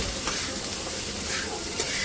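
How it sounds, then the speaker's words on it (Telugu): Rice being stirred into fried egg in a hot pan for egg fried rice, a continuous soft sizzle with scraping stir strokes, close and steady, no voices. "నేనైతే రైస్ దాంట్లో వేసి కలిపాను."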